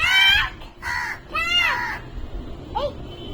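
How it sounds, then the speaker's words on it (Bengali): A crow gives three loud, harsh caws in quick succession, close by, followed by a fainter, shorter call, with no speech in between. "কাক ডাকছে ও কা কা করে ডাকছে"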